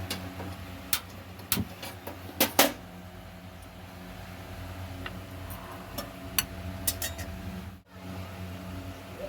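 Igniter clicks from a kitchen gas stove being lit, a few sharp ticks in quick succession over a low background hum, then scattered fainter clicks.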